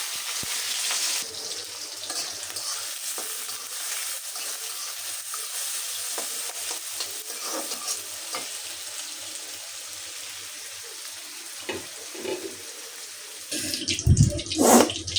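Pointed gourd (potol) frying in a pan with onion, a steady hiss and sizzle running throughout, with a few clinks and stirring scrapes near the end.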